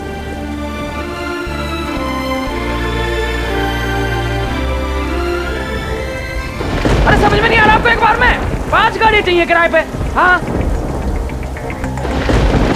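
Heavy rain pours in a loud, constant hiss with low rumbling throughout, while someone speaks agitatedly over it in the second half.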